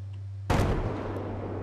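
One loud sharp gunshot, sniper fire in a Battlefield 4 multiplayer match, cracks over a steady low hum and decays into a rumbling tail.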